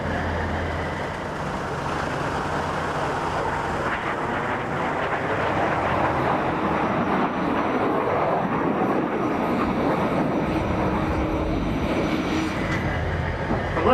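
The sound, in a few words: Red Arrows jet aircraft flying display overhead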